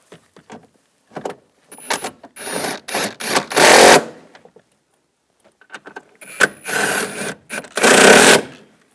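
A hand ratchet tightens bolts during heater core replacement on a 2010-2017 Chevrolet Equinox, giving two close, loud bursts of rapid clicking separated by short pauses and quieter taps.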